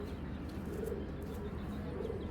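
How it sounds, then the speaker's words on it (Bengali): Two large pigeons coo together in a loft, low soft murmuring calls repeating steadily and close, with a constant dense background of other birds. "দানব সাইজের দুইটা কবুতর আবার একসাথে দিই"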